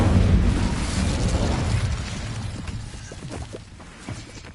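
Incendio fire spell blast in the Hogwarts Legacy video game on PS5: a loud, broad whooshing burst that fades over several seconds, with a few small pops and crackles near the end.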